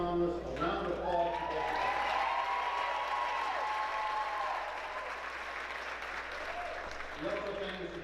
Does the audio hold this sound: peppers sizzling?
no